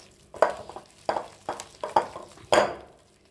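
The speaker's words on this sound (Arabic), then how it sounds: "نمزجوا كلش مع بعضه." Chocolate dessert ingredients mixed together in a bowl, heard as five distinct scraping, clinking strokes of a utensil in a bowl, a steady rhythm of about one every half second, close and moderately loud, with no talking.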